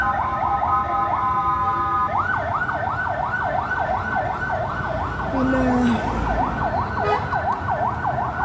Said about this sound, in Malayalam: എപ്പോഴും ഇങ്ങനെ ആംബുലൻസിൻ്റെ ഒച്ചയും ബഹളമൊക്കെ ഉണ്ടാവും